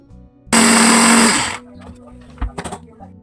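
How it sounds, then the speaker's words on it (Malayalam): A mixer grinder with a small jar roars loudly for about a second grinding spices, then stops, followed by a few clicks and knocks of the jar being handled. "ഒന്ന് വേഗം പൊടിച്ചെടുക്കാം കേട്ടോ മിക്സിയുടെ ജാറിലിട്ടിട്ട്"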